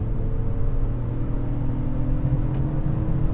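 A BMW E46 325i fitted with a lightweight flywheel accelerates in third gear, heard as a steady, loud, low engine drone and rumble from inside the car with no talking.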